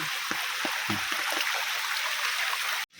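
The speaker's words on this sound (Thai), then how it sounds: "ก็สวยงามดีเวลาน้ำไหลนะเหมือนน้ำตกนะฮะ" Rainwater rushing along a forest path like a small waterfall, a steady close broadband wash with a few low gurgling knocks, ending abruptly.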